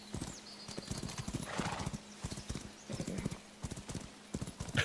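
Horse hooves clip-clop in the video game Where Winds Meet, a quick steady gallop of sharp close beats with an occasional whinny, running continuously at moderate volume.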